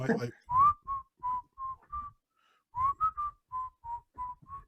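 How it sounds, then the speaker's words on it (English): Someone whistles a slow, simple tune in short notes, two phrases separated by a pause, close and clear in a quiet room. "Whistling in a quiet environment is super creepy."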